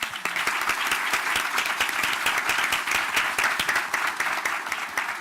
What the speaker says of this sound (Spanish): les pido a todos que les demos un aplauso y les agradezcamos